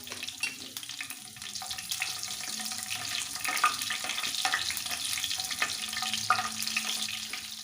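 Chilies sizzle and crackle steadily in hot oil for tempering, a continuous close frying hiss with occasional sharper pops and faint clinks.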